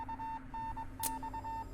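Morse code beeps from the horror video game Spirit Hunter: Deathmark, a single steady electronic tone keyed on and off in short and long pulses over a low background hum, repeating without any voices.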